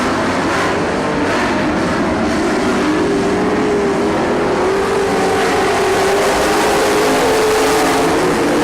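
Race cars running side by side lap after lap, a loud continuous engine roar with a slowly rising pitch, no voices on top.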